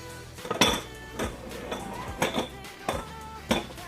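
Large tea glasses clink against one another as they are moved around in a kitchen cabinet, giving several separate bright glassy knocks and rattles at an uneven pace, close by with no talking.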